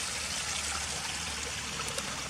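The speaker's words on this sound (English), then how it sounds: "It's just a water drainage pipe where the water's running through it and going into the river" Water runs steadily through a drainage pipe and spills into a river, a continuous close rushing trickle with no voices.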